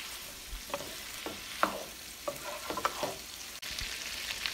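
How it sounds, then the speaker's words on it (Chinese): Beef shank and tendon stir-fried in a wok for a rice noodle dish, with a soft steady sizzle broken by several light scraping stirs of the spatula, fairly quiet and with no talking. "翻炒均匀，让所有的食材均匀的上色。"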